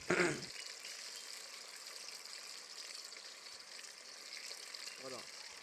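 Chicken 65 pieces fry in a kadai with a steady, soft hiss of bubbling oil. A brief clatter opens the sizzle and a small stir or clink sounds near the end.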